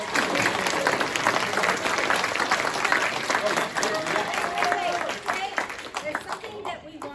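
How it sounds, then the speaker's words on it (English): Convention-hall audience applauding at a Nickel City Con Q&A with the original Teenage Mutant Ninja Turtles voice actors, dense clapping mixed with cheers and voices, fading slightly near the end. "Guys, please give them a round of applause."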